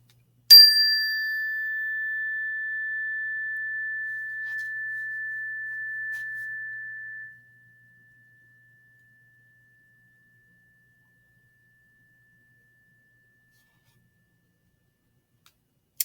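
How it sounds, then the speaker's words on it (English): A single chime is struck once in a quiet classroom, giving a clear, bright tone that rings on and slowly fades over about seven seconds into silence. No one talks. "I'm going to count down from 3, and then we will ring the chime."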